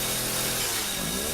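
A chainsaw engine in the video game Resident Evil 7 roars steadily for the whole moment, a dense buzzing drone with gritty overtones, loud and close.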